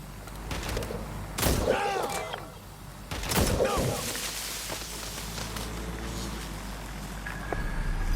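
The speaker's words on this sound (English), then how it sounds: "Gunfire over there" Gunfire in the video game Watch Dogs: Legion: two bursts of shots crack out around the one- and three-second marks over a steady ambient bed, with fainter scattered reports afterward.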